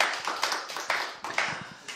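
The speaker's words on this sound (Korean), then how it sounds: "여러분 박수 한번 보내주십시오" Several bursts of hand clapping from a church congregation during a Korean mission worship service, uneven and somewhat distant, rising and fading in short waves.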